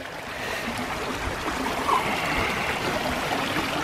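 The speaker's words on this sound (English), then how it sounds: "I've never seen this much water running down the hill in this area." Heavy runoff from a downpour streaming down a hill in Iroquois Park, a continuous nearby gurgling rush that holds steady throughout, with no voices.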